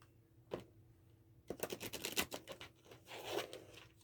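Tarot cards are shuffled in quick riffling bursts, soft papery flutters and taps close by in a quiet room.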